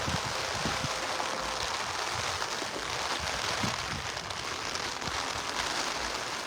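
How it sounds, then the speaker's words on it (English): Rain falls on an afternoon in New Amsterdam, a faint, steady hiss of drops with scattered soft patters and crackles, continuous and without voices. "On this rainy afternoon here."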